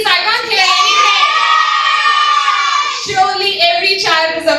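An audience of children at a kids' public-speaking talent hunt shouts back in unison, a loud, sustained high-pitched yell that dips briefly and then swells again.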